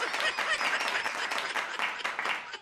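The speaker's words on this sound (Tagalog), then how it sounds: "Palakpak." Applause fills a hearing room, a dense burst of many hands clapping at once, loud and continuous for a few seconds.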